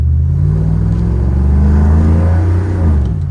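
A tuned Chevy Tahoe engine with a cold air intake pulls hard under acceleration, a loud, steady, close-up rumble that rises slightly in pitch, with no talk over it.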